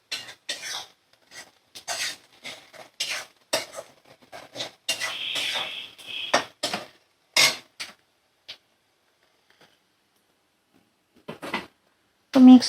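Spices are stirred together in a pot for a homemade Bengali dried-shrimp dish, giving short, dry scraping strokes in irregular bursts that trail off into near silence before one last louder scrape.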